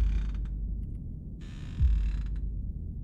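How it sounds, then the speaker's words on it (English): A rocking chair in a horror game gives soft, intermittent creaks over a low droning ambience, with one dull low thump partway through. "Okay, rocking chair."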